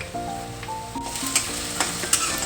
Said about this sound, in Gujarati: હવે આપણે એક વાટકી ટમેટા નાખશું કટિંગ કરેલા